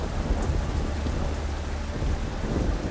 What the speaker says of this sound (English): Strong winds and heavy rain thrash the city in the warm tropical air.